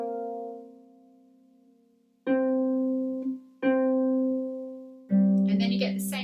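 A harp playing a left-hand bells pattern: plucked low notes and chords struck one after another, each left to ring and slowly decay before the next, the last one brighter and busier.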